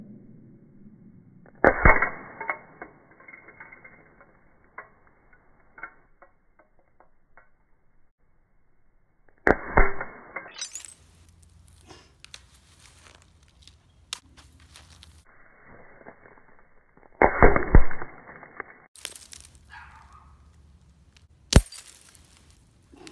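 Glass bottles are shot at, giving several sharp, loud impacts with crashing shatter and tinkling debris, spaced apart by quiet stretches of faint clinks.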